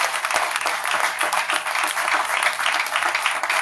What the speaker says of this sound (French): Est-ce qu'on peut applaudir le Seigneur Jésus,